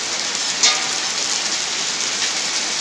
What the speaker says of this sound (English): Wow, it's hailing here.